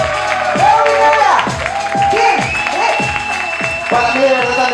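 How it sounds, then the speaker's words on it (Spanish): A studio audience at a variety show gives a loud ovation to a departing performer: clapping mixed with repeated rising and falling shouted cheers over about five seconds. "una ovación gigante para despedir"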